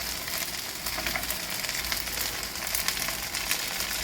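Vegetables frying in a pan for shrimp fried rice, with a steady, close, loud sizzle that holds evenly throughout and has no talk over it.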